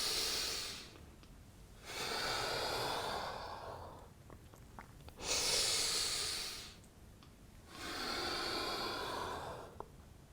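Slow, deep breathing during a yoga cat-cow flow, with three long airy inhales or exhales at a steady, unhurried rhythm, close and soft, separated by brief quiet pauses.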